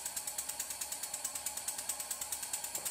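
A model steam engine, run on compressed air, drives a DC dynamo through a belt. It gives off a rapid, even train of mechanical chuffs and clicks, about seven per second, close and steady, with no talking.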